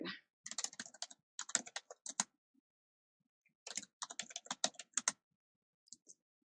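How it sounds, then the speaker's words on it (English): Bursts of computer keyboard typing in two clear runs of rapid clicks separated by a pause, with a few isolated taps at the end, close and fairly quiet, no talking. "let's type up Rashima's name"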